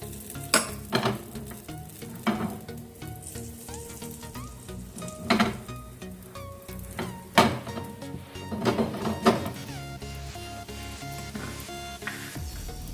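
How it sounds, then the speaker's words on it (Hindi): Mung dal uttapam sizzles steadily on a pan over a low flame, a soft continuous frying hiss punctuated by scattered utensil clinks and scraping knocks, close and without talk. "तो इसको हम धीमी आंच में सिकने देते हैं।"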